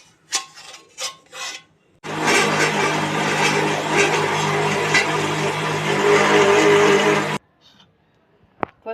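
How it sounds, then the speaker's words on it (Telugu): A home mixer grinder blends a hardened ice cream mixture in its jar, a loud steady whirring grind lasting about five seconds, with brief knocks and handling sounds before and after. "ఇప్పుడు గట్టిగా అయిన దాన్ని ఇప్పుడు మనం మిక్సీ జార్లోకి వేసుకొని మిక్సీ పట్టుకుందాం ఒక 5 మినిట్స్."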